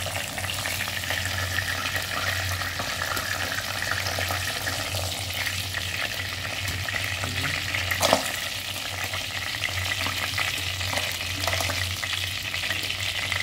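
Steady crackling sizzle of fish frying in hot oil, continuous throughout with a low hum beneath and one brief clatter midway.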